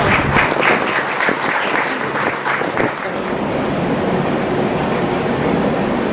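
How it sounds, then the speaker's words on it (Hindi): Applause fades into the steady, rumbling roar of a train passing on a nearby railway line outside a lecture hall, growing more even and continuous toward the end. "ये रेलवे लाइन आता रहेगा।"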